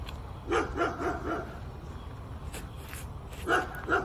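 A dog outdoors barks in two short bursts of three or four barks each, moderately close, with quiet rustling ambience between them.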